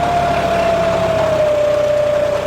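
A tractor engine idles steadily with its four-wheel drive disengaged, a close, even mechanical drone with a constant whine laid over it.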